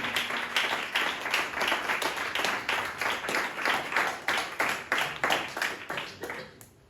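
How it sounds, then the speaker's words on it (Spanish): A church congregation clapping together in a fast, regular rhythm, loud and close, each clap distinct in an even beat before the clapping fades out at the end. "Dale fuerte el aplauso"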